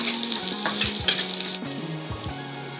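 Whole spices fry in hot oil for an eggplant bhuna with poached eggs, a close, continuous crackling sizzle with the spatula stirring and scraping the pan throughout.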